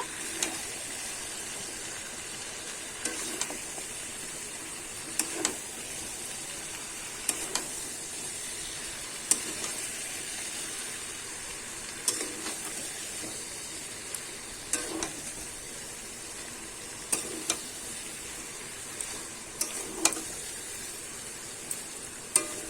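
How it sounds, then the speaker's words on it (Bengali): Chicken and fried potatoes sizzle steadily while being sautéed in a pan for Bengali chicken kosha, with a constant frying hiss broken by regular, distinct stirring scrapes every couple of seconds. "এবার কিন্তু আমি ভালো করে কিছুক্ষণ ধরে কষিয়ে নেব।"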